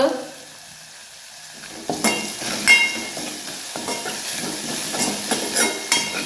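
Spices fry in hot oil with salt, turmeric and asafoetida, starting quiet then breaking into crackling sizzle with scraping stir strokes, close and moderately loud, no voices.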